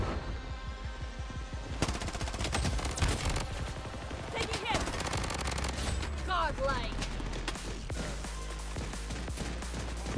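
Gunfire in the mobile shooter Bloodstrike: dense, loud bursts of rapid automatic shots and fusillades throughout, with some shouting voices mixed in.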